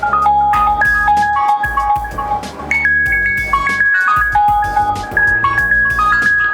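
Slinex SL 10N Cloud video intercom sounding an incoming call: a loud, bright electronic melody of stepping chime tones plays continuously and close by, with nothing else heard.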